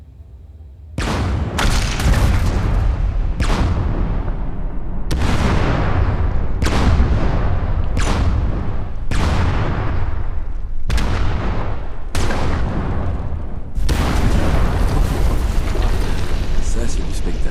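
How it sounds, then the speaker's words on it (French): Repeated heavy explosions in the Fallout 76 video game, a series of loud booming blasts with rumbling tails roughly every one to two seconds, ending in a sustained roaring blast. "C'est l'explosion la plus propre que t'aies faite jusqu'à présent."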